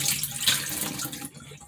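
Tap water runs in a short, steady splashing stream while black oil sunflower seeds are rinsed for sprouting, then cuts off abruptly near the end.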